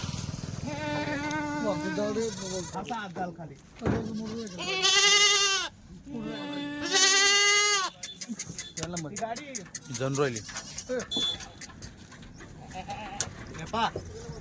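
Close, loud bleats from Kathewadi goats on a farm, two long strained calls in the middle and shorter ones around them, while someone speaks and handles the animals.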